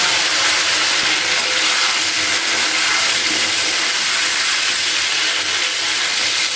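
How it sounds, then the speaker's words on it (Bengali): Cauliflower and potato pieces fry together in hot oil with bay leaf and whole cumin in a kadai, a loud, dense, continuous sizzle that holds steady throughout, with no voices. "এবার ফুলকপি আর আলুটাকে খুব ভালো করে ভেজে নেব একসাথে দিয়ে দিলাম"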